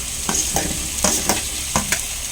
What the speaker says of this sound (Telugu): ఇదిగో మామిడికాయ వేస్తున్నాను